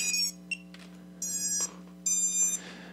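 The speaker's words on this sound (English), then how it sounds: "Getting some ESC beeping here." Electronic speed controllers on an LS-210 racing drone build emit short bursts of high tonal beeps, a brief chirp then two longer melodic tone sequences over a steady low hum.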